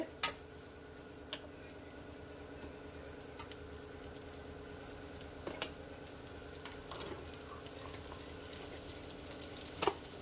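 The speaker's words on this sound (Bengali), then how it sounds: "ফাইন চপ পেঁয়াজ কুচি দিয়ে দিলাম। একটু ভাজা ভাজা হবে।" Onions fry quietly in a pan, a steady low sizzle with occasional sharp clicks and taps of a utensil against metal.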